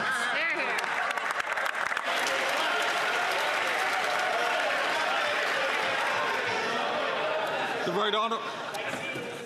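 Members of the House of Commons clap loudly and continuously during Question Period in the chamber, a dense wall of applause mixed with crowd murmur that runs for several seconds.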